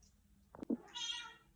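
A cat gives a single short, fairly faint meow close by in a quiet room, preceded by a soft click or brief rustle.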